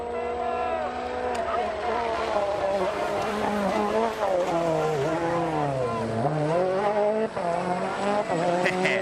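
Rally car braking and re-accelerating on a Janner Rally stage, a loud, continuous engine roar whose pitch drops and then climbs again, with commentators talking over it.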